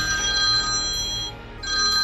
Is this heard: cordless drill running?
no